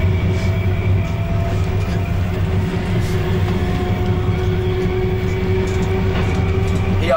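A 1989 Copenhagen S-train rides the Frederikssund line, its interior filled with a steady, loud low rumble and droning hum of wheels on track, continuous throughout with faint rattles and tonal whines riding on top.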